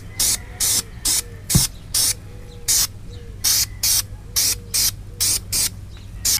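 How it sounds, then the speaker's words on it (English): A spray can sprays paint onto a repaired cracked car bumper in short, even hissing bursts, about fifteen of them in a steady rhythm, loud and close with quiet gaps between. "now we got the spray can and we're going to start spraying it."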